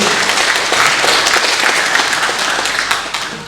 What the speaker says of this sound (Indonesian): Kita berikan aplaus untuk Pak Deputi.